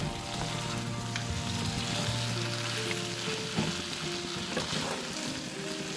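Mutton chukka fries dry with pepper in a pan, giving a steady, close sizzle with scattered stirring scrapes and clinks, with no voices over it.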